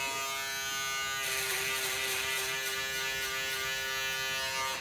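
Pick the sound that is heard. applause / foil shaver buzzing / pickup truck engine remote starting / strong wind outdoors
foil shaver buzzing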